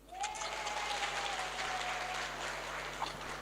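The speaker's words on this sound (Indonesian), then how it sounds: "Tepuk tangan untuk Anda semua." An audience at a seminar on children's education and parenting breaks into steady, dense applause that holds evenly from start to finish, with a faint thin whistle-like tone drifting underneath.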